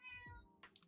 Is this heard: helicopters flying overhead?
no